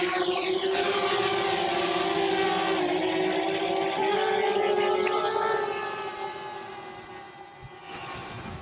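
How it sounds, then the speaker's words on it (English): A camera drone flying a standard mission with return to home gives a steady, loud whine with a high motor tone throughout, easing off in the final seconds as it moves away. "the drone is flying to a small location."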